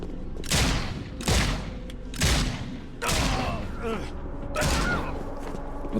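Rapid bursts of gunfire from The Sinking City video game, four or five loud volleys spaced about a second apart with a faint voice underneath.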